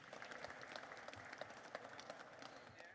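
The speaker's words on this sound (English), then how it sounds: "So please give a round of applause for Thomas." Scattered clapping from a small audience, steady and moderately faint, lasting a few seconds.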